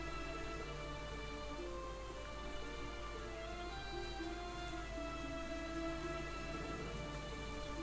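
Steady video-game rain falls throughout with no break, dense and even, with layered tonal music running underneath and a faint hint of distant thunder.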